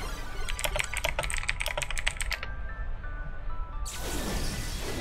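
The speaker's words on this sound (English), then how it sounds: "Sorry about typing." Fast clattering keystrokes on a computer keyboard during a Pokémon online battle, a dense burst of taps, then a pause, then another rapid flurry, all over a steady bed of game music.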